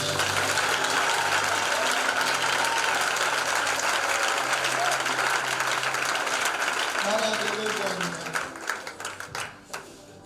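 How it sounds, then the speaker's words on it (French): A church congregation applauding, a dense continuous roar of clapping that thins out into scattered claps near the end. "Acclamons pour lui."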